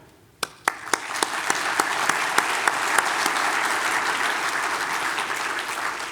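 A few scattered claps quickly swell into steady, sustained applause from a sizeable audience at a county workshop, continuing evenly to the end.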